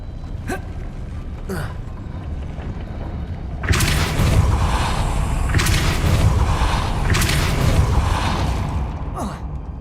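A Depulso spell is cast in the Hogwarts Legacy video game, a sudden booming magical burst followed by sustained rumbling and whooshing effects, with sharp breaths or grunts before it.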